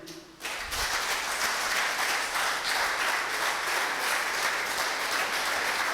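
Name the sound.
congregation applauding in church worship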